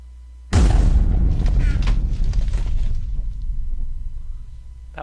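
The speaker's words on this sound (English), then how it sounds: "we have an automated explosion generator" A sudden loud boom from an automated explosion generator in Minecraft hits after a brief quiet moment, then rolls on as a heavy rumbling decay that slowly tapers off, with no voices.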